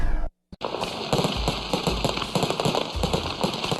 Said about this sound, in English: It's an event worthy of fireworks and elaborate celebrations.